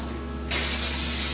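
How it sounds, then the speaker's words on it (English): A short burst of cooking spray onto parchment hisses on abruptly after a brief quiet moment and continues steadily, close and loud. "Let me spray them"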